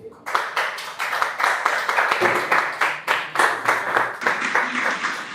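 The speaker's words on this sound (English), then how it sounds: "let's give her a round of applause" Audience at a student presidential debate applauding a candidate, a modest crowd giving crisp, rhythmic, close claps that start abruptly and keep an even beat throughout.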